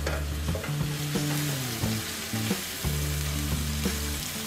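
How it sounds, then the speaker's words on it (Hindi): Chopped garlic frying in hot oil in a pan gives a loud, dense sizzle and crackle. Stirring scrapes and a low hum run beneath it. "इसमें हम डालेंगे जो हमने 2 टीस्पून गार्लिक चॉप करके रखा था, इसको हल्का सा फ्राई करेंगे।"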